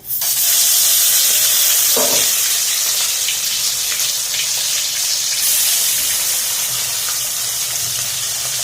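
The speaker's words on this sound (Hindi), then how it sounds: "आधा ई तेल गरम भ गेल अछि। आब ई माछ द रहल छियै।" Fish dropped into hot mustard oil in a pan sets off a loud, steady sizzle and hiss that runs throughout, close up, with faint clinks from the pan.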